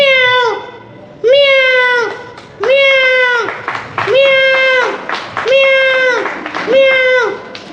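A voice imitates a cat at a school arts festival mimicry contest, giving six drawn-out meows in a slow, regular series, loud and close, each rising then falling in pitch.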